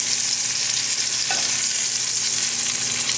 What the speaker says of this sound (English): Cooking for 4 minutes on this side